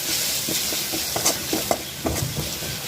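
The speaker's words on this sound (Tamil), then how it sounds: "இந்த டைமில் கொஞ்சமாக மஞ்சத்தூள், கரம் மசாலா, காரத்துக்கு தனி மிளகாய்த்தூள் இதெல்லாம் மிக்ஸ் பண்ணி விட்டுடுவோம்" Turmeric, garam masala and chili powder get stirred into vegetables frying in a pan, producing a steady sizzle with repeated scraping strokes and soft clinks, close and moderately loud.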